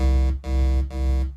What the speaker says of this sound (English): you're gonna go from a saw wave to a square wave.